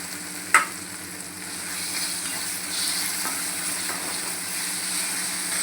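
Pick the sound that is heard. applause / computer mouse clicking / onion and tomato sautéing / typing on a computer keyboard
onion and tomato sautéing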